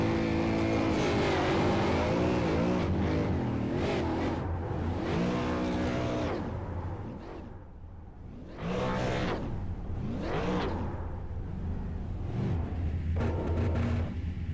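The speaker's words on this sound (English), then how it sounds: "do we get some burnouts here from the 1 car?" Race car in a SARA Pierce Fleet Super Series event doing burnouts and donuts, engine roaring and revving continuously with rising and falling pitch, loud and sustained, no voices over it.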